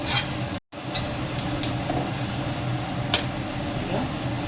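A lauki (bottle gourd) paratha cooks in oil on a pan with a soft, continuous sizzle and scraping as it is turned, steady and close, broken by one brief silence.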